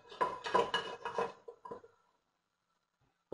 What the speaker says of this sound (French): je vais faire revenir mes cuisses de poulet